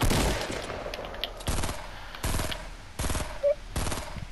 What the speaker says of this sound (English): Sweet shotgun, or whatever we'll call it.